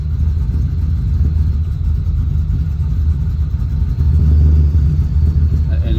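A poorly tuned car engine that barely runs is held on light throttle, producing a loud, steady low rumble that swells slightly near the end, close to the microphone.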